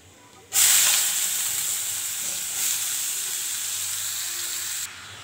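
Ash gourd drops into hot oil tempered with mustard, fenugreek and chilli, setting off a sudden loud sizzle that hisses steadily for several seconds before cutting off.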